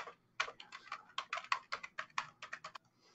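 Typing on a computer keyboard while entering SQL Server connection details: a quick, close run of light plastic key clicks in an uneven rhythm, about fifteen to twenty presses, with no talk.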